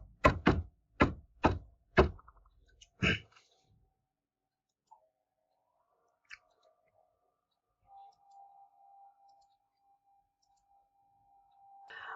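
A burst of six or so loud, hollow keyboard key clicks in quick succession at close range, followed by long quiet with a couple of isolated taps and a faint hum.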